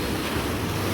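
Sea waves breaking on a sandy beach at La Vila, Spain, heard as a steady, dense wash of surf with wind noise buffeting the microphone throughout, fairly close and continuous with no talk.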